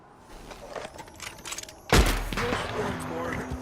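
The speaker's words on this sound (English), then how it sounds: "Can we have one day without gunfire?" A sudden loud burst of gunfire cuts in midway over quieter background sounds in the video game Red Dead Redemption 2, with a voice speaking faintly underneath.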